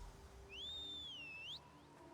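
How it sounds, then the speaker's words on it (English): A dog whistle is blown in the video game Elder Scrolls Online, a single clear high sliding whistle tone lasting about a second, rising and dipping in pitch, faint over quiet game ambience. "Use the dog whistle."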